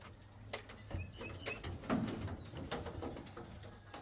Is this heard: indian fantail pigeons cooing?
yes